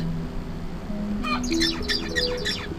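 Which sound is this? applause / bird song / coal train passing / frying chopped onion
bird song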